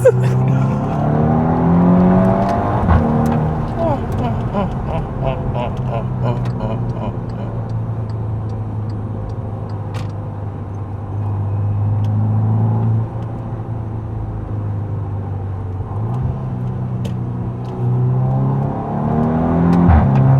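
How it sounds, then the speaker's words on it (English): A 2014 VW Scirocco R engine revs hard under acceleration in sport mode with DSG gearshift pops, heard from inside the cabin as a steady loud rumble with surges, while occupants talk over it. "That DSG fart is next level."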